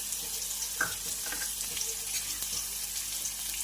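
Cumin, sesame seeds, garlic, spring onion and chilli fry in hot oil for a bottle gourd soup, giving a steady, fairly quiet sizzle with faint stirring clicks and no talking.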